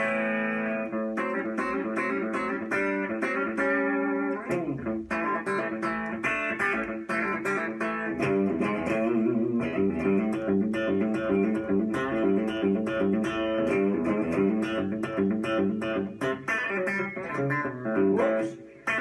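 A Godin Session electric guitar plays country-style licks on the bridge pickup with split-coil tones, giving a bright, twangy run of plucked notes and chords that continues for the whole stretch with no voice over it.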